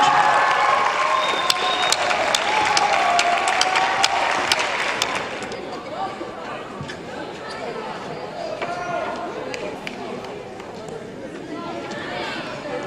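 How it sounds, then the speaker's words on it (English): Audience applause at the Global Connect Symposium as someone walks on stage, fairly loud clapping for about five seconds that then fades into quieter crowd chatter and murmuring. "Please give me a big round of applause for Kyle Herbert as he joins us on stage."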